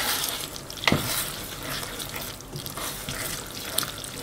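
A spoon stirs a mac and cheese mixture in a bowl, giving soft wet squelching and scraping close up, with a sharper knock near the start and faint clatter throughout.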